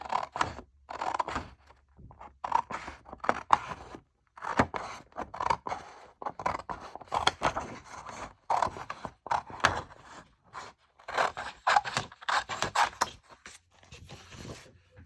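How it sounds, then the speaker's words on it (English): Scissors snip steadily through paper while two paper craft houses are cut out, the close, crisp cuts coming in quick bursts separated by brief pauses. "I'm going to just cut out 2 of these houses, and I'll do these 2 here. So let me get those cut out."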